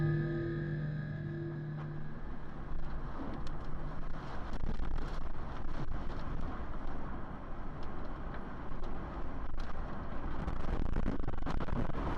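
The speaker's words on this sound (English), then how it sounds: "the 130-mile-per-hour winds wreak havoc on the house and its surroundings" Roaring 130 mph tornado winds battering a house and its surroundings, caught by a dashcam: a loud, continuous rushing blast with gusting surges and rattling debris, no voices.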